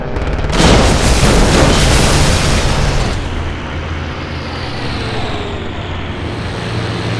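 Machine-gun fire tearing into a Messerschmitt Bf 109 fighter's airframe and cockpit in World War II air combat: a loud dense roaring burst of blasts for about three seconds, then a sustained rumbling roar with no voices.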